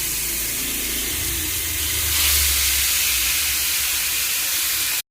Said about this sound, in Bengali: মাছ দুটো ভেজে দিই